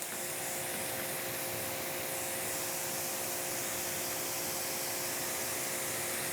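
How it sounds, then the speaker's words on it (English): Steady broadband hissing spray of water rinsing a car after a ceramic spray coating, continuous and fairly close throughout with no talking. "Now let's do our first rinse."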